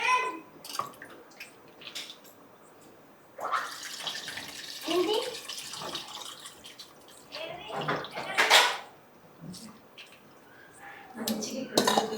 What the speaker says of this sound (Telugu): దీంట్లో వాటర్ వేసి ఆ తర్వాత నార్మల్ వాటర్ వేసుకోవచ్చు